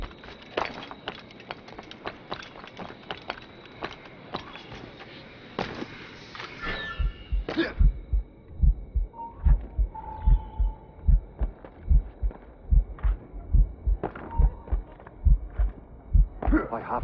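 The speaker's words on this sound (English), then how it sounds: "Keeps my heart beating." Slow, heavy heartbeat of a poisoned character in Assassin's Creed Rogue, low thumps thudding in a steady rhythm that grows louder and more regular partway through, over faint game ambience.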